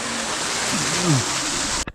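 Waterfall pouring into the warm geothermal Sky Lagoon pool in Iceland, a steady close broadband rush of falling water that holds for about two seconds before cutting off abruptly, with faint murmuring voices beneath it.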